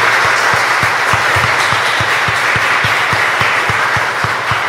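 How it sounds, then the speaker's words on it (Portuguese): A church congregation applauds during a Portuguese-language sermon about Mary, loud and close with a steady rhythmic beat of unison claps, roughly four per second, over a dense wash of clapping hands. "Vamos aplaudir essa mãe maravilhosa"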